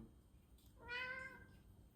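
A single clear cat meow, close by and fairly soft, rising and falling in pitch against a quiet background.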